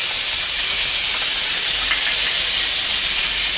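Curry leaves dropped into hot oil that already holds popped mustard seeds, cumin and asafoetida, during tempering for a masala chana curry. They sizzle with a loud, steady, close hiss that runs unbroken throughout.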